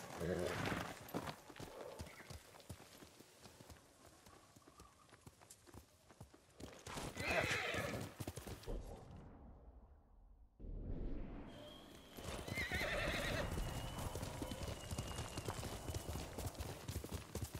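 Kage, the player's horse in Ghost of Tsushima, clip-clops along with steady hoofbeats and lets out neighs, under spoken dialogue and game music, with a brief quiet dip midway before the hooves and voices return.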